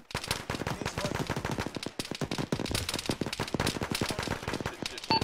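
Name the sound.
gunfire in a military video game (Arma, ShackTac)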